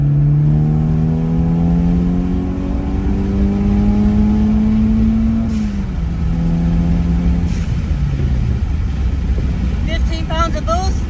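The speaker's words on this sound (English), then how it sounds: "Go ahead and give it some gas." Turbocharged Toyota Celica GT-Four engine pulling hard in third gear from about 4,000 RPM, a loud rising drone that climbs steadily, dips and climbs again, heard from inside the car with a voice speaking over it.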